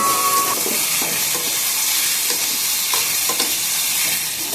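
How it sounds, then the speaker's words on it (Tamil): Chopped tomatoes sauté in a hot pan, giving a steady, loud sizzling hiss that carries throughout, with occasional scraping stirs of a spatula against the pan. "நல்லா கட் பண்ணி அதையும் போட்டு நல்லா வணக்கிக்கலாங்க"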